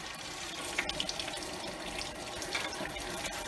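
Tap water runs steadily as a ventilator clip part is rinsed off: a continuous close splashing rush at fairly low volume, with no one speaking.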